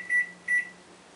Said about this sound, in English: Let me set the kitchen timer.